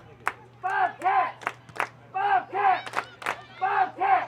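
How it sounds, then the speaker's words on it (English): Soccer crowd at Chesa Field chanting for Ohio, rhythmic group shouts punctuated by sharp claps and drumbeats, fairly loud and repeating in a steady pattern. "Good crowd here on hand for Ohio at Chesa Field."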